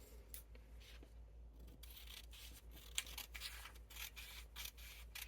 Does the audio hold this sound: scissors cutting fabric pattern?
yes